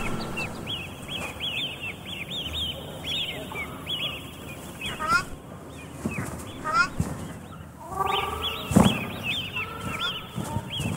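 Newly hatched ruddy shelduck ducklings peep in rapid high chirping runs, near and moderately loud, with rustling and a few louder calls mixed in.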